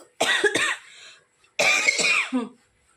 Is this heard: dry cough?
yes